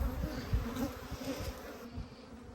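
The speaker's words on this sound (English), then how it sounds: "The bees are still flying" Honeybees buzz around commercial beehives outdoors, a soft, steady, continuous hum of many insects in flight with low rumble underneath and no voices.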